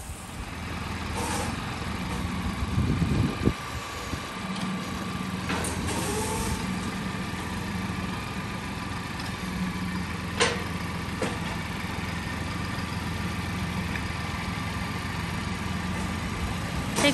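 A tractor's diesel engine idles continuously in the open, a low rumbling drone with a brief louder clatter early on and occasional faint clicks.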